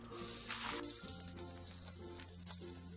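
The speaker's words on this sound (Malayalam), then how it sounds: "ഇനി നമുക്ക് ഈ കട്ട് ചെയ്ത് വെച്ചിരിക്കുന്ന മിക്സിങ് ഈ പാനിലേക്ക് ഇട്ടിട്ട് ഫ്രൈ ചെയ്തെടുക്കാം" A semolina and vegetable mixture shallow frying in a hot pan, a faint close sizzle with a brief louder burst at the start over a low background hum.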